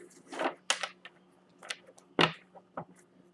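Tarot cards being shuffled by hand, a series of brisk papery riffles and slaps in uneven bursts, close and fairly quiet with no talking.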